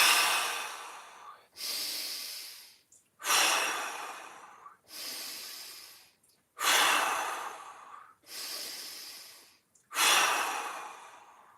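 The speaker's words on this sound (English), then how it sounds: "Inhale, exhale, inhale, exhale." Deep, slow breathing during a mobility workout, long forceful breaths alternating inhale and exhale, about eight breaths in a steady rhythm, close and loud with brief silences between them.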